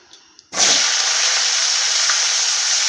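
Cauliflower dropped into hot oil for a festival khichuri, a sudden loud sizzle that bursts in after a brief quiet and then holds as a steady, bright hiss of frying.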